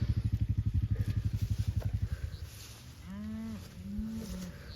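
A cow in a spring calving herd on pasture gives two loud, drawn-out moos nearby, after a rhythmic engine putter fades away.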